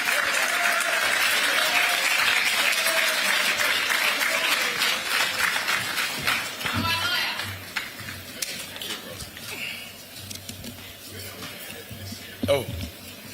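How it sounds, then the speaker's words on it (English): Audience applause welcoming a keynote speaker at a national mining dialogue conference; steady loud clapping that thins out halfway, then a voice speaks over the fading claps and a brief thump occurs near the end. "Our keynote speaker, a round of applause."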